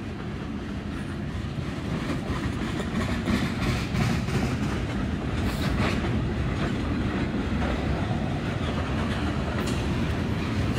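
Freight train hauling about 2.4 million gallons of ethanol through Kelly, Kentucky, passing close by: a continuous loud rumble with rhythmic clickety-clack of wheels over rail joints and metallic rattling of cars throughout.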